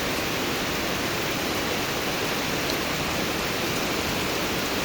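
A hard downpour falls at a house at Ban Mae Nam Phet, a dense, even roar of rain close by with no other sounds over it.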